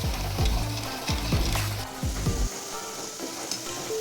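Sugar being stirred in a hot pan while making sweet wheat-flour urad dal vadas, with rhythmic scraping strokes and a steady sizzle for about two and a half seconds, then fainter sizzling alone.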